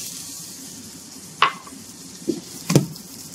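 A spoon stirs an emulsion of mushrooms and ratte potatoes in a pan over a soft, steady sizzle. Three quiet taps and scrapes of the utensil come at irregular intervals.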